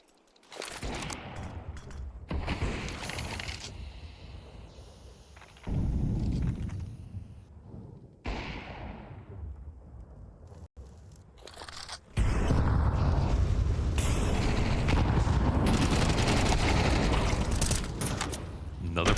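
Counter-Strike match gunfire, including AWP sniper shots, comes in sharp cracks and bursts amid grenade and movement noise, growing louder and denser in the final stretch while a commentator talks throughout.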